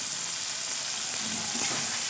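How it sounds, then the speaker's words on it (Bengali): Spices with salt, turmeric and chili powder frying in a pan for a vegetarian omelette curry, giving a steady close sizzle with a brief stir partway through, no talking. "মশলাটা খুব ভালো করে কষিয়ে নেব যতক্ষণ না ভাজা বন্ধ হবে"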